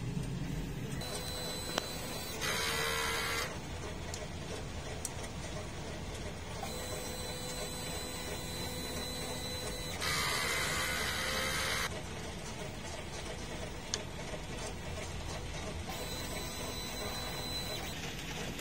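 DTF printer running a print head cleaning cycle, with mechanical whirring and pump noise and short bursts of louder hissing, under ongoing talk.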